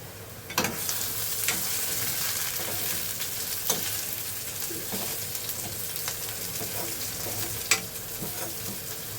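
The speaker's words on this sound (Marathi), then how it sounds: "बघा आपला कांदा मस्त शिजतोय." Onion sizzles in a hot pan with a pinch of asafoetida in a small home kitchen, giving steady close frying crackle with a few sharp stirring clinks and scrapes spaced through it.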